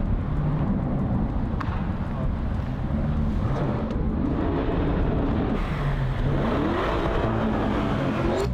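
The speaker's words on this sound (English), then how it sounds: "look at that car. That car is so quick. It's a Lamborghini Urus." A Lamborghini Urus SUV accelerates past with a broad roar that swells and rises in pitch near the end, steady and fairly close, with wind buffeting over it.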